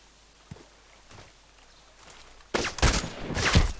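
Sniper rifle fire in an online shooter on the Longshots Lake map: faint, sparse thumps at first, then a loud burst of sharp cracks and rattling gunfire in the last second and a half.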